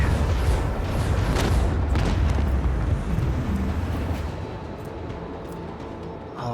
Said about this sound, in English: Then reload so I can fire the port side cannon.